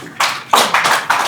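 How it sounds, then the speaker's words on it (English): Broadband applause breaks out in loud bursts from an audience welcoming a speaker at a Blue Economy Investment Summit media parley, close and sustained in waves without speech. "Please, let's give her a welcome applause."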